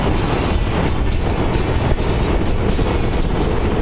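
A sailboat motors under bare poles in winds above 20 knots on a cold day, a dense, unbroken roar of wind buffeting and engine drone, loud and close throughout.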